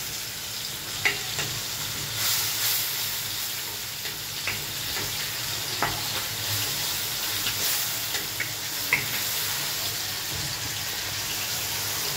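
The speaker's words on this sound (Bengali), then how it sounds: "এবার মশলাটাকে বেশ ভালোভাবে কষাবো।" Spice paste of ground ginger, cumin and garlic with coriander powder fries in a pan for fish curry, a steady close sizzle and hiss broken by occasional sharp clicks and scrapes of stirring, with no voices.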